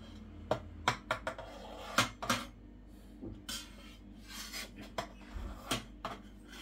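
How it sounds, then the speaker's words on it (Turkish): A knife scrapes and taps against the inside of a pot while cutting soft homemade white cheese into small squares, irregular strokes and clinks, quiet and close. "Şimdi ufak kareler halinde peynirimi tenceredeyken keseceğim"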